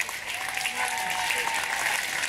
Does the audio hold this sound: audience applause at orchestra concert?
yes